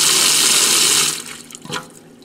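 Water rushes loudly through a hose into a drain during dishwasher setup, a strong steady flow for about a second that then cuts off, followed by faint splashing and handling noises.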